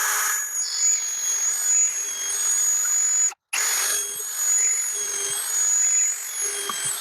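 A power drill whines steadily as it bores down the middle of a large piece of wood for a wood-fired micro kiln, close and continuous, with one short pause partway through before drilling resumes.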